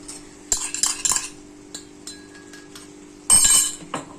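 Fried spice mix being stirred into homemade mango pickle, giving a few bursts of metal spoon clinking and scraping against a dish, with quiet pauses in between.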